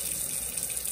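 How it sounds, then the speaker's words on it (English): Water running steadily from a sink tap during handwashing, a brief continuous hiss and splash at close range with no talk. "Now, before I turn the water off, I grab a paper towel."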